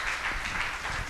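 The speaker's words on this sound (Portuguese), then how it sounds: "Aplauda ao Senhor" A church congregation at a worship service applauds together, a dense, steady wash of clapping heard continuously without any break.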